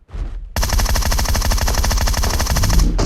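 Loud, close automatic gunfire in the PUBG Mobile battle royale game rattles out in one sustained rapid burst of evenly spaced shots lasting a few seconds, with no talking.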